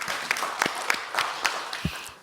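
An audience at a parliamentary commission meeting in Indonesia applauds briefly, giving a moderate wash of clapping with several sharper individual claps standing out over about two seconds.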